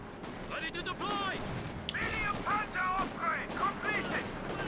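A Panther tank's mounted machine gun in Company of Heroes 2 rattles in short repeated bursts amid battlefield noise, with someone talking over it.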